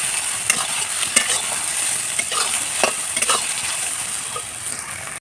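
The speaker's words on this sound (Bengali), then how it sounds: "এভাবে অনবরত নাড়াতে হবে।" Soybean chunks frying in a pan for an egg and soybean dish, a steady close sizzle broken by repeated scraping strokes of the stirring spoon.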